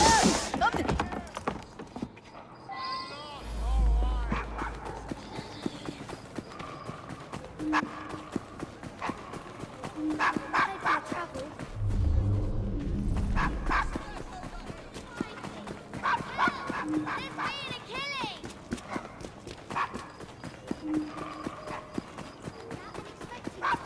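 Dog barking and yipping in Assassin's Creed Syndicate on a Victorian London street, mixed with horse hooves clip-clopping, with people talking over much of it.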